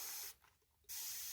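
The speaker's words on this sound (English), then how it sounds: "I took a spray bottle and I put some water" A spray bottle mists water onto a canvas-textured cloth to dampen it, giving two close, loud hissing bursts separated by a brief quiet pause.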